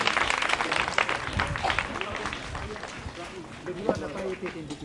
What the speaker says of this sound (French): Applaudissements pour l'équipe C.